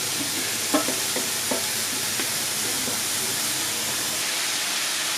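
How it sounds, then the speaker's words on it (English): About two cups of spinach cooking in a pan over medium-high heat, with a continuous bright hiss of steam and sizzle and a few soft knocks of stirring early on. "I'm doing it on a medium to high heat so the spinach doesn't boil for me"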